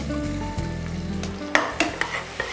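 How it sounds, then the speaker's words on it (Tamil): Onion and mutton sizzle together in a hot pan with whole garam masala, giving a steady close frying hiss broken by a few sharp stirring clatters in the second half. "ஆனியன் போட்டு மட்டனையும் போட்டுருவோம். ஓகே, ஆனியனும் மட்டனும் ஒன்றா ரோஸ்ட் ஆகும்."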